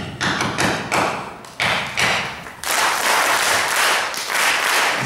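Clapping and thumping a rhythm as an ear test: a steady pattern of sharp claps and dull thuds repeats close up, with a crowd clapping along in the background.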